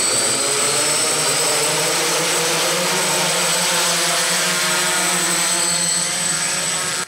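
A camera drone takes off for aerial filming over the Taiwanese countryside, its loud steady propeller whine holding a high sustained tone before cutting off abruptly at the end.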